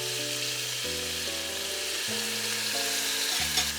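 Crushed garlic and fresh chili peppers fry in hot oil, a steady close sizzle under quiet background music, with no talk.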